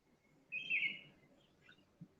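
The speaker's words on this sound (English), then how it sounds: "I could briefly hear the chirping of the birds around you" Birds chirp faintly outdoors around a person on a call, a bright warbling call rising for about half a second, then a few softer tweets far off over low background noise.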